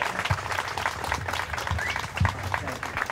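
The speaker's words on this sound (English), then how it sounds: "So if you guys give a warm welcome and an applause" Audience applause at an evening talk, a lively mix of sharp individual claps over a steady crowd wash, fairly close and continuous, with a few louder hits standing out.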